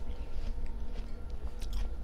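Crisp crunching bites and chewing of a crunchy hami melon, close and fairly quiet, a quick series of moist crunches over about two seconds with no speech.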